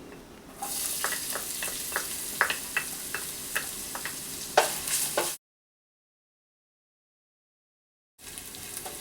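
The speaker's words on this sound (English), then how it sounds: "Next, saute the ginger." Ginger sizzles and fries in hot cooking oil in a pan, a steady close hiss broken by repeated spatula taps against the pan, then it cuts off briefly before the frying resumes.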